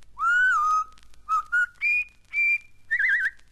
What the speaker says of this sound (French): Voici maintenant quelques airs sifflés célèbres